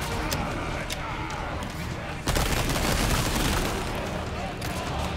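The player's gun firing in the survival horror game Resident Evil 4, a few sharp shots, then one louder close blast against a dense, noisy game mix, with talk through it.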